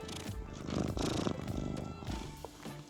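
A cat purrs loudly and steadily at close range for about three seconds, its rumbling vibration continuous and even, with no voices over it.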